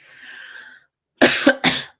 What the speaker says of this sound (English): There's the cough.